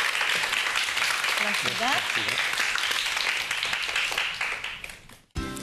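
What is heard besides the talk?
audience applause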